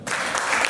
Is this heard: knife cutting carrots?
no